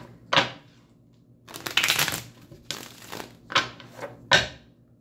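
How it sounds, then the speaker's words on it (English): Several close riffle shuffles of a card deck, quick papery bursts separated by brief pauses, with no talking. "One more shuffle and then I'll cut."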